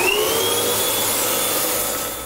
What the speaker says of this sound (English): So just very gently go back and forth and vacuum away.